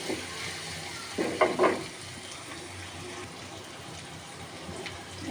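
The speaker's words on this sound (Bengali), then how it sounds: "তারপরে তেজপাতা আর গরম মশলাগুলো দিয়ে দেবো, একটু একটু করে ভেজে নেব পেঁয়াজটা।" Chopped onion fries with bay leaf and garam masala in mustard oil, giving a soft, continuous sizzle. A brief clatter of stirring rises near the start, then the steady frying hiss carries on alone.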